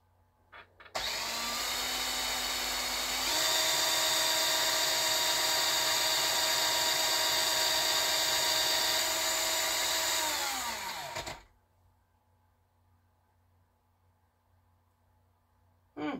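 An electric drill spins a universal motor used as a generator, a loud steady whine that starts abruptly, steps up in pitch after a few seconds, holds for about eight seconds, then winds down and stops.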